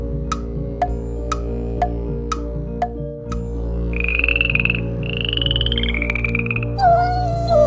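Frogs croak as a storybook sound effect, a string of sharp, evenly spaced calls followed by longer warbling croaks, heard close and clear over a steady musical backing.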